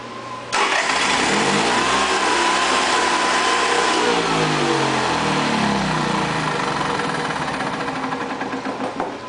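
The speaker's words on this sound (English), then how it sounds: "the generator now cranks over." A generator engine cranks over and catches, running loudly and steadily at close range with a rough mechanical roar that holds for several seconds.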